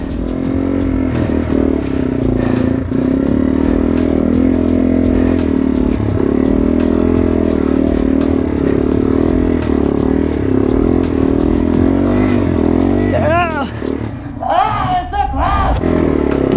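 A Yamaha TW200 motorcycle in first gear ridden through snow in a forest, its steady single-cylinder engine drone loud and close throughout, with brief voices near the end.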